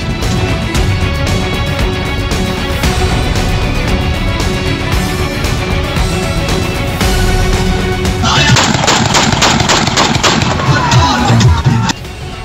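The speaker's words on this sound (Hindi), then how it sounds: "मुखिया जी ने चमचमाती राइफल उठाई और लगे ट्रिगर दबाने। फिर तो जश्न की महफिल में धाएं धाएं की आवाज सुनाई देने लगी।" A rifle is fired repeatedly into the air at a tilak wedding ceremony, sharp reports cracking out over loud, continuous celebration music and crowd noise, with a denser burst near the end.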